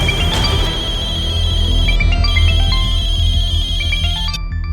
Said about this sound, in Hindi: अभी टें टें टें टें टें टें करके बज रहा है।